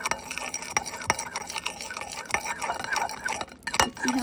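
Homemade glue-free slime being stirred in a container, producing close irregular scraping and tapping of a utensil with soft sticky squelches and clicks throughout.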